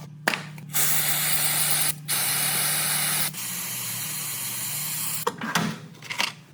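Lubricant sprays onto a Mercedes rear differential bolt in three close, hissing bursts with brief gaps between them, followed by a few clanks.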